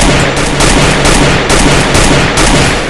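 In the Free Fire video game, rapid gunfire erupts in loud, dense bursts, with rhythmic shots repeating steadily and no pause throughout.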